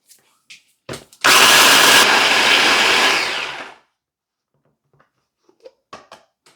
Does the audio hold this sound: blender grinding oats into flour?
yes